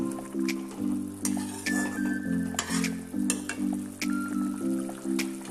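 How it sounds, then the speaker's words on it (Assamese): Fish pieces simmer in a curry with curry leaves, a soft bubbling sizzle in the pot, while regular low tonal pulses repeat under it in a steady rhythm and a few sharp clinks stand out; no talking. "এয়া চাওক মাছ 2 পিচ ইয়াত দি ল'লোঁ"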